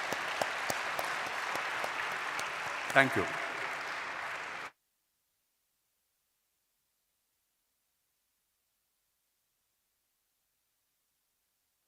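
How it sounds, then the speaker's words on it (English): Audience applause at a national awards ceremony, steady clapping from the crowd for several seconds with a brief spoken thanks over it, then abrupt silence for the rest of the clip. "can I request you to give a collective, thunderous applause for all of them collectively"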